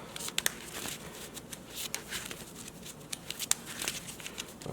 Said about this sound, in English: give it a couple more shuffles.